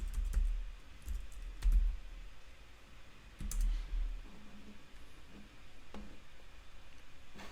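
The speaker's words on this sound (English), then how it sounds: "let me just type, instead of video editing, I want to type video editor." Typing on a computer keyboard, with soft, irregular key clicks close by. The clicks come in short clusters with brief pauses, quiet against a low background hum.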